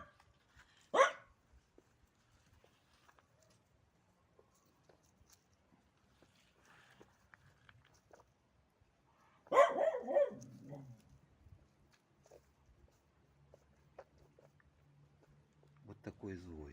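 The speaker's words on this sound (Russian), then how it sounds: "перестань гавкать" A dog barks in two short outbursts, a single sharp bark early and a longer burst of barking and yips midway, with quiet stretches and faint sounds between.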